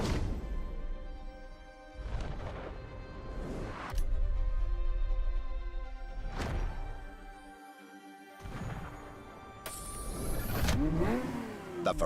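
A Ferrari F50 engine in The Crew Motorfest revs in several rising bursts, close and loud, with brief pauses between pulls and a sharp clattering hit near the end.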